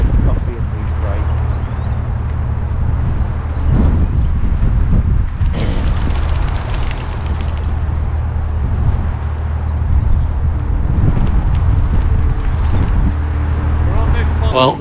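Blustery, damp wind buffets the microphone throughout, with low rumbling gusts under a person talking outdoors by a moored canal boat.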